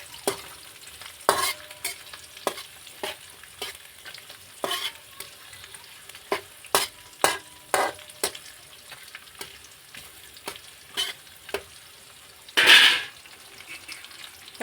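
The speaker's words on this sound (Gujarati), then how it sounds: "તો થોડીક વાર આપણે હલાવી લઈશું બધા મસાલાને સારી રીતે।" Spices with ginger being stirred and fried in a pan for Indian matar paneer curry, a steady sizzle broken by repeated scraping strokes of a spoon and one louder clatter near the end, with no voices.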